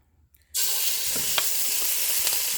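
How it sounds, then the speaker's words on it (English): Seasoned turkey necks hit hot oil in a pot and burst into a loud, steady sizzle after a quiet start, with a few faint stirring clinks through the frying. "We're not really frying the turkey, we're just sauteing it in the oil"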